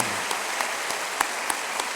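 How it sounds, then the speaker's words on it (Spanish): A short stretch of continuous congregational applause in a church service, full and even, with a few louder individual claps standing out. "no dejen de aplaudir. Denle todo el aplauso"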